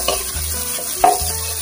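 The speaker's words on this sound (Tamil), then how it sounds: "இல்லை ஆனியனை ஃப்ரை பண்ணிடலாம்" Onions frying in a pan for a soya chunk, eggplant and mushroom gravy, a soft continuous sizzle with brief scraping stirs and a sharper clink about a second in.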